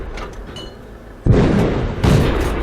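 Tank cannon shots in World of Tanks, two heavy booms with rumbling tails, the first after a stretch of quieter engine and battle ambience, the second about a second later, loud and close.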